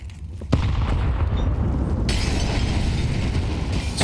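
Loud booming grenade blasts in a professional Counter-Strike match of the ESL Pro League, with a sharp crack followed by a sustained roar of blast noise and debris.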